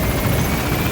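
Extraction helicopter in Metal Gear Solid V, a loud, steady rotor roar filling the short stretch without pause or talk.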